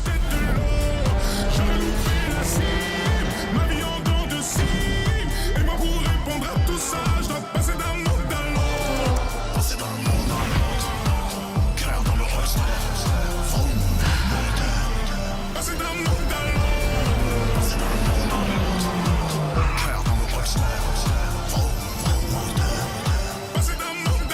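Race cars circling a track at the GP Explorer event while their drivers warm up the tires, a dense, constant roar of engines with repeated passes rising and falling, loud and unbroken throughout.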